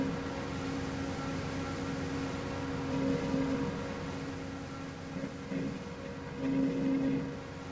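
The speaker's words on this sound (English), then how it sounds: "Yes, that forage harvester is loud." A forage harvester engine drones in a farming video game, a loud, steady, low hum with faint tonal whine that swells slightly a few times and carries no speech over it.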